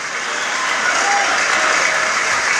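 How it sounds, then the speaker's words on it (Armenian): Applause at a wedding celebration, a dense, steady clapping from a crowd that holds loud and even throughout. "Аплодисменты"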